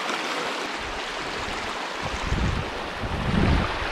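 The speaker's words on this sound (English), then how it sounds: "There's a stream coming in from the left over here, joining up with this one." A stream flows near waterfalls in Bankhead National Forest, a steady broadband rush of water with low rumbling surges toward the end.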